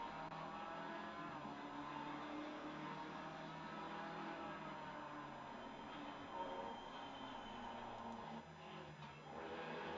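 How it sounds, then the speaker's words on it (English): Several race cars in a sim racing game at Valencia crowd close behind, their engines blending into a continuous, loud, dense roar that holds steady throughout with no voices. "I got a whole train of cars trying to get by me"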